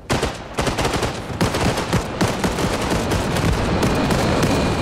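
Constant mortar and gunfire in the Arma Reforger video game: dense, loud, rapid repeated blasts and bursts overlapping with brief gaps, sustained throughout.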